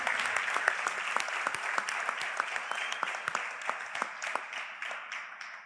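Audience at a special church-style meeting breaks into sustained applause, many hands clapping steadily with some louder individual claps standing out, fairly close and filling the room.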